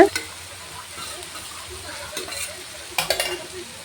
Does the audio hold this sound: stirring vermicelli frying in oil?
yes